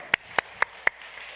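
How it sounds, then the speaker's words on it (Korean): Four sharp, evenly spaced hand claps ring out in a church during a Sunday worship service, fairly quiet with a little room echo between them and no talking. "우리 하나님께 영광의 박수 올리겠습니다."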